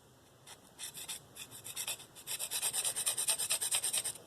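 A Spyderco Paramilitary 2 knife with an S30V blade is drawn across a DMT Diafold ceramic stone in quick, rhythmic rasping strokes, close and crisp, starting sparse and settling into a steady back-and-forth series with no voices.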